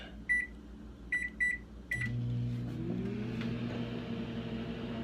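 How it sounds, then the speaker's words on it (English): A few keypad beeps, then a microwave oven starts and hums steadily with a low drone while heating cheesy ramen noodles, close and continuous. "Now I'm gonna microwave it again for another 3 minutes."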